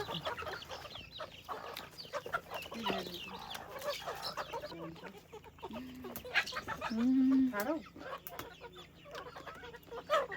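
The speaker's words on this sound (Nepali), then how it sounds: "कुखुरा देखाएको छ है" Chickens clucking amid busy background chatter, with a few louder squawks standing out toward the end over a steady noisy backdrop.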